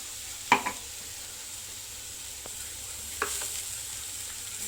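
Green chilli paste sautéing in hot oil in a pan for cabbage bhaji, a soft continuous sizzle broken by a few sharp spoon clinks, close and fairly quiet, no voices.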